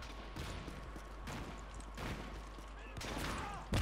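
Bursts of gunfire from a Call of Duty Modern Warfare 3 multiplayer match, several volleys spread across the clip at a moderate, steady level, with voices talking over the shooting.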